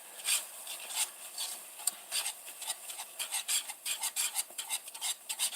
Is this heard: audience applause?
no